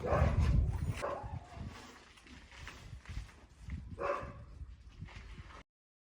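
Several dogs bark in short, uneven bursts at moderate distance in an outdoor yard or enclosure, the loudest volley at the start and another around the middle before the sound cuts off.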